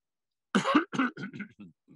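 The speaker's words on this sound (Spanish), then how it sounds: "acabo de toser" A single close cough followed by a few rougher throat-clearing bursts that trail off, then quiet.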